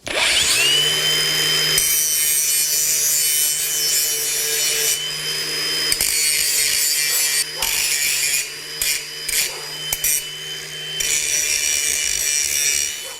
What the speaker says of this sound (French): je meule à la fois les coupes et les têtes de vis qu'on voit ici qui dépassent un peu